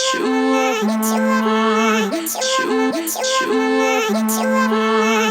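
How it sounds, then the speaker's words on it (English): A music track warped by two bars and pitched down an octave plays alone, with repeating phrases of deep tonal notes and sharp percussive hits in a steady loop. "In this case, I'm warping it by 2 bars and pitching it down an octave"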